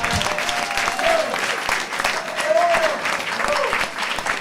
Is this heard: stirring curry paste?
no